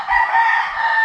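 A rooster crows once near a waterfall in the Dominican Republic, a loud, sustained call lasting about a second, heard alone without talk.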